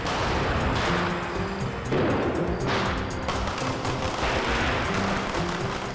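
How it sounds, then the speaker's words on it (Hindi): Diwali firecrackers burst one after another in a dense, noisy stretch of sharp cracks and rumbling bangs, loud and close amid a busy outdoor festive din. "आओ ना, पटाखे जलाते हैं"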